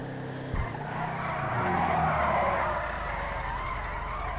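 Willard Eudora muscle car in GTA Online accelerating hard, a loud steady engine roar climbing in pitch with tire skid noise, no talking.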